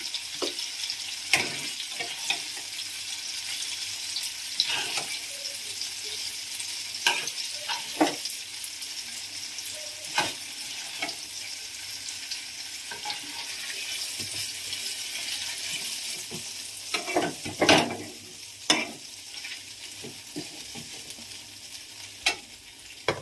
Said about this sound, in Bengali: পনিরগুলো এইরকম হালকা করে ভেজে আমি তুলে নিচ্ছি